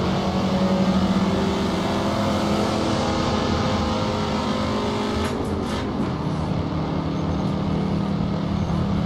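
A car engine drones steadily at cruising speed on a highway in a driving game played on a DIY 3DOF motion simulator rig, loud and continuous, with a brief pitch shift midway like a gear change.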